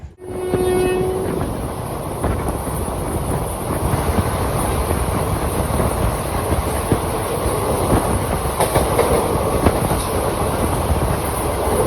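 The Darbhanga–Daurai special train runs on rails between Raxaul and Gorakhpur, a loud, continuous rumble with rhythmic clickety-clack from the wheels and a brief horn toot at the start, heard from on board.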